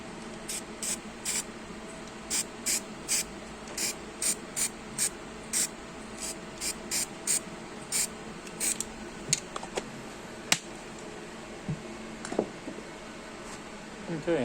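Cold liquid zinc is sprayed from a can onto a laser-cleaned, rust-removed metal part in short, evenly spaced hissing bursts, repeated many times at close range, with a few clicks and handling knocks near the end.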